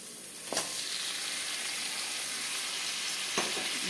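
Fried mutton being stirred into spice paste with green chili in a pan, giving a continuous even sizzle broken by two brief scrapes of a spoon against the pan.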